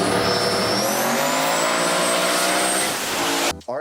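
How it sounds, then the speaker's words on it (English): Blue Mustang drag race car roaring loudly down the strip, a sustained engine drone with rising pitch that cuts off abruptly near the end. "I'm gonna cut to same man that flipped with blue Mustang, making it run down the strip"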